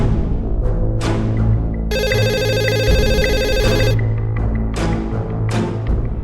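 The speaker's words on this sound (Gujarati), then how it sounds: "ફોનની રિંગ વાગે છે" A telephone rings with a bright, trilling electronic tone for about two seconds, clear and close over a bed of background music.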